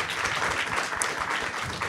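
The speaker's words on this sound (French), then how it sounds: "On l'applaudit!" A live podcast audience applauds a guest, a dense, even round of clapping from a roomful of people that continues unbroken for a couple of seconds.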